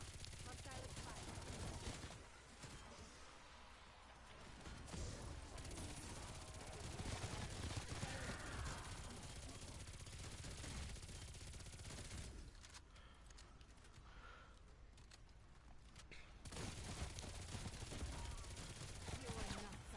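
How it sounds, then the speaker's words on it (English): Hostile gunfire in a shooter video game, with bursts of machine-gun and rifle fire layered under dense battle noise and voices, continuing steadily across the whole stretch. "Hostile fire."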